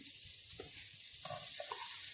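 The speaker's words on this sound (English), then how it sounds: "we're going to gently cook these onions, garlic and rosemary in the bacon and butter" Onions, garlic and rosemary cook gently in bacon fat and butter, giving a soft, continuous sizzle with light spoon-stirring knocks and scrapes underneath.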